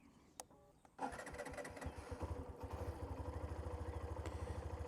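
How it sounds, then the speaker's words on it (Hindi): A Hero Xtreme 125R single-cylinder motorcycle fires up after a brief click and settles into a steady, rapid thumping idle, its exhaust note pulsing evenly and close by. "Typical of a single cylinder motorcycle. This is how the bike sounds."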